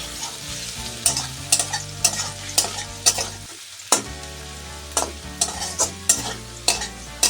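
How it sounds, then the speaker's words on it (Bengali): Potatoes sizzle steadily in hot oil while a utensil scrapes and stirs in regular, repeated strokes, close and clear. "সামান্য পরিমাণে লবণ দিয়ে ভাজছি"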